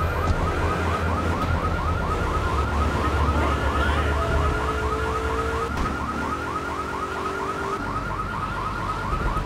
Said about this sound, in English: why is this alarm going off?